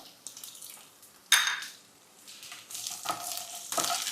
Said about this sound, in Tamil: கொஞ்சம் இதை வதக்கிக்காங்க